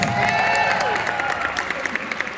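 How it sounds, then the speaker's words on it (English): Band banquet audience at a high school awards ceremony applauding its MPA participants, a busy clatter of clapping with cheers and voices rising over it, tapering slightly toward the end. "So once again, a round of applause for all of our MPA participants."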